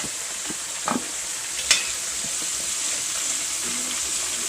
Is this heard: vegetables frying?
yes